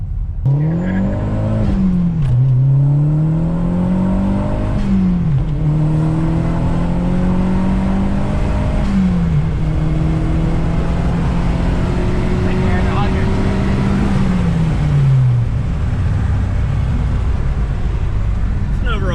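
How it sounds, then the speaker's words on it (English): 2013 Mazda Speed 3 accelerating hard, its turbocharged engine rising and falling in pitch through several gear changes with audible turbo spool, loud and close from inside the cabin. "I love the turbo spool on this thing. It sounds good."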